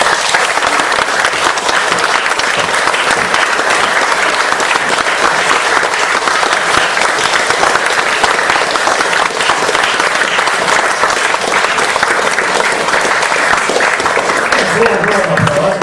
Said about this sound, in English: Warm applause for an even warmer room.